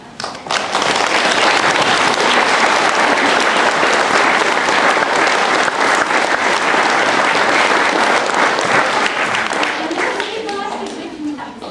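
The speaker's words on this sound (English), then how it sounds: "Can we give them a clap?" Loud, dense audience applause at a church or school performance, a continuous roar of clapping for over ten seconds that thins near the end as a voice and music begin.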